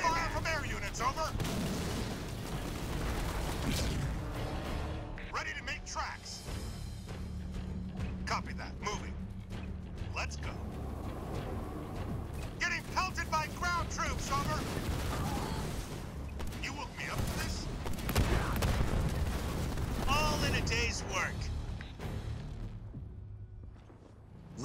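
Steady battlefield din from the real-time strategy game Halo Wars 2, with rolling gunfire bursts and booming explosions layered throughout, while voices talk over the combat.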